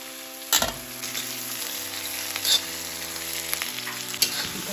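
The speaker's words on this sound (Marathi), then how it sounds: "खोबरं तळलेलं तेल आपण कांद्यात टाकतो" Sliced onion fries in oil, with oil used for frying coconut added, for homemade kala masala: a steady, close sizzle runs throughout, broken by several scraping stirs of the spatula against the pan.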